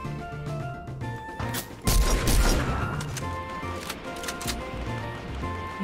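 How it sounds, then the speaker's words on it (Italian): Gunfire erupts in a Fortnite match: a sudden loud volley of shots near the middle, followed by scattered sharper cracks over steady game music and ambience. "Mi ha sparato da due lati"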